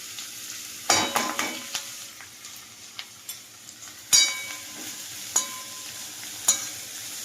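Fenugreek greens stir-fry in a little oil in a pan, giving a soft steady sizzle punctuated by sharp scrapes and clinks of a spatula against the metal at irregular intervals.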